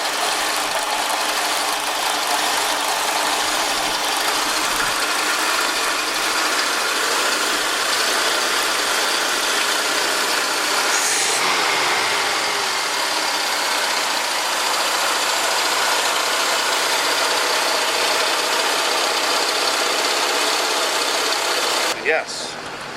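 A Ford F-100 pickup's carbureted engine idles steadily at its set idle speed, a continuous, even mechanical drone with a faint rattling texture and a brief sharp noise near the end.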